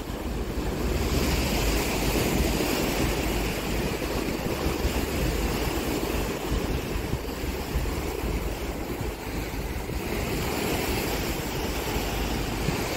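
Sea waves wash steadily onto a Goa beach, a continuous broad roar of surf with wind buffeting the microphone, loud and unbroken with no voices.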